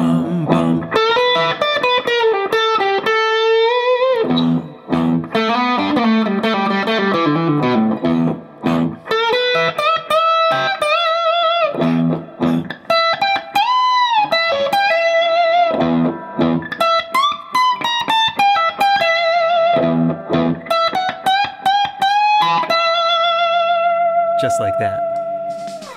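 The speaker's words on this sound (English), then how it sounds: "now playing through the entire solo at a slow tempo" Electric guitar running through the whole solo at a slow tempo, a steady stream of distorted picked notes, bends and slides played loud and close for about twenty-five seconds with brief gaps between phrases.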